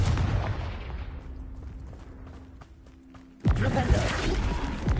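A Confringo fire spell in Hogwarts Legacy bursts suddenly after a quieter stretch of ambient game sound, with a loud broadband blast and crackling rumble holding to the end.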